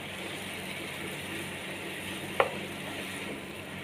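Chicken marinated in salt, pepper, green chilli paste and garlic paste sizzles in a hot pan with a steady, even hiss, broken by one sharp click of a utensil midway.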